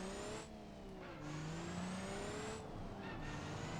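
A car in BeamNG Drive accelerates with its engine revving up through the gears, pitch rising and dropping at shifts, loud and continuous with no talking.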